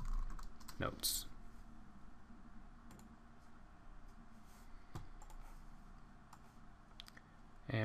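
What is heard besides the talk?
typing on a computer keyboard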